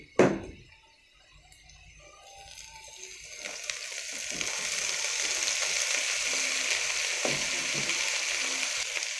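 Luncheon meat and vegetables stir-frying in a pan: a sharp clank at the start, then a sizzle that builds into a loud, steady frying hiss with occasional stirring knocks.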